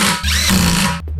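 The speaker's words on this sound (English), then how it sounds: "So I snugged everything up with this impact gun" An impact gun tightens the lug nuts on a Tesla during a tire change, giving a loud, close, continuous whirring rattle that runs for about a second and cuts off sharply near the end.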